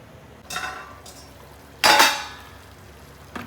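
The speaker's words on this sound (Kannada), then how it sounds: "ಈಗ ಮುಚ್ಚಳ ಮುಚ್ಚಿ ಬೇಯಿಸಕ್ಕೆ ಇಟ್ಕೊಳ್ತೀನಿ" Metal lid being placed onto a cooking pan of mushroom masala, a few short scraping clinks of metal on metal, one louder clatter in the middle, close by with quiet cooking noise between.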